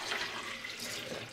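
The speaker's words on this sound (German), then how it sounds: "Und jetzt fülle ich mit Wasser auf" Tap water gushes steadily into a container holding half a lemon and dates for homemade ground elder lemonade, a brief, close, continuous splashing rush.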